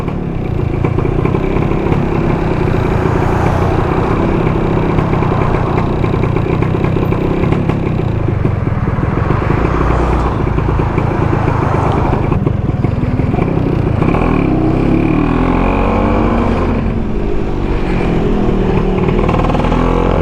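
A Vespa PX scooter engine with a Pinasco 251 kit putters steadily at low revs in first gear, a continuous close-up drone that rises slightly now and then while rolling slowly.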